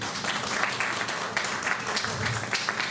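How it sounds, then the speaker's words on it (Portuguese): A Sunday church congregation applauds as a man named Pablo is called forward, with dense, fairly loud clapping through the whole moment and a faint murmur of voices beneath. "aplausos para Pablo"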